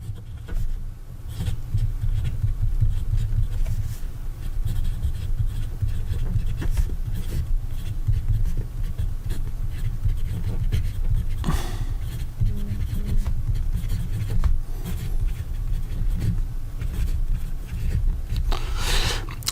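A Kaweco Skyline Sport fountain pen with a steel nib scratches and rubs across paper in continuous close strokes, a soft, steady writing texture.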